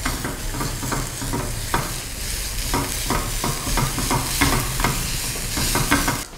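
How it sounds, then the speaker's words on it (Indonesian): Onion sautés loudly in a frying pan, a close, busy sizzle with frequent scraping stirs running continuously through the whole stretch, no voices over it. "tumis sampai dia harum dan juga matang"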